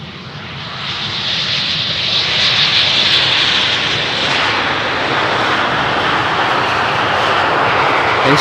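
An airliner arriving on runway 18R at Amsterdam Schiphol Airport, a loud, close, sustained roar of jet engines that swells and holds steady throughout, with no voices.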